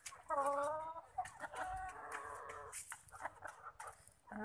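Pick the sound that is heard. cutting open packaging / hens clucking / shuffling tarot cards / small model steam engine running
hens clucking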